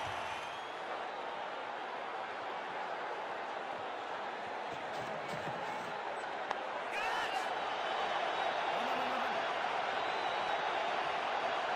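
Crowd in the WCC3 cricket video game roars after a six, a dense, steady wash of cheering that swells a little louder toward the end, with faint game sounds mixed in.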